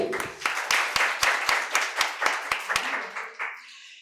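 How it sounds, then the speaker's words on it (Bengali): A small audience claps at a prize-giving during a quiz competition held at a medical college and hospital. The claps are sharp and fairly even, about a dozen over three seconds, then taper off into room quiet. "জোরে হাততালি"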